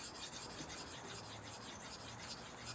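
A karambit knife is sharpened on a grit stone, producing a continuous close rasping scrape with a faint rhythmic pulse of repeated strokes.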